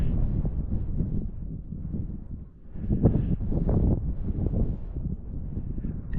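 Steady broadband wind noise buffets a microphone outdoors at a rifle shooting range, a continuous low rumble with gusty swells and a brief lull midway, no voices heard.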